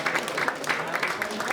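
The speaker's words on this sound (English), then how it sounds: "You're all giving yourself a round of applause here" An audience at a county Democrats' soup supper claps briefly, a moderate patter of applause in a hall lasting under two seconds.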